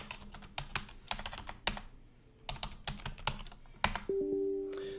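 Rapid keystrokes on a computer keyboard while entering values into an Excel spreadsheet, coming in irregular bursts of clicky taps with brief pauses, close and moderately loud, with no voices.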